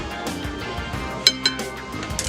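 A spoon clinking against a bowl while chicken tikka masala marinade is stirred, with a few bright metallic taps over a soft background of scraping and movement.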